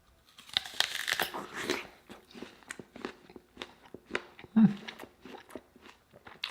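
Crunchy food, a snack compared for sweetness and noted as green, chewed close up in bursts of crisp bites and grinding over several seconds, with no talking.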